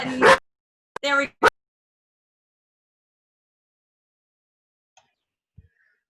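A dog yips a few short times near a computer microphone during an online video meeting, the barks coming in a quick cluster at the start before the room falls nearly silent with faint small noises.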